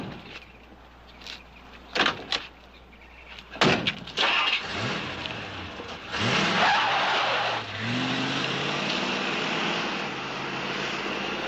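A car revs and peels away with tires skidding and squealing, the engine rising loud and close over a few sharp bursts before settling into a sustained roar as it drives off, with no talking.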